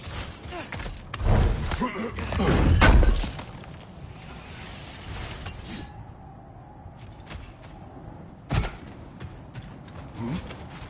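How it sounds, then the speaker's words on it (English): Objects smash and break in the video game God of War, with crashes and shattering bursts that swell near the start and recur later among quieter game ambience. There is no talking. "Back to smashing through things for fun and profit."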